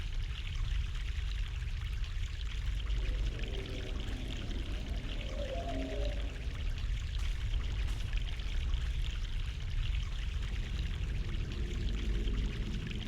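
Water poured steadily in The Longest Journey video game, a continuous close trickling stream that runs unbroken and fairly loud throughout with no voices.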